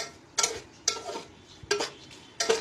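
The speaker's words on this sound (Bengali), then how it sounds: "আবারও ভালো করে এটা নাড়িয়ে চাড়িয়ে নিলাম" A spoon stirs chicken curry in a kadai, giving four sharp scraping and clinking strokes against the metal pan at irregular intervals, fairly close and moderately loud, with a faint background hiss.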